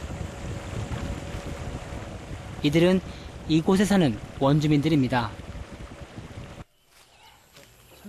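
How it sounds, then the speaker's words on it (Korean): A longtail boat travels a jungle river in Sarawak; a steady motor-and-wind rumble runs underneath someone talking, then drops away abruptly near the end, leaving faint background noise. "사라왁의 정글에선 롱테일 보트라고 불리우는 긴 배를 탄 사람들을 볼 수 있는데요."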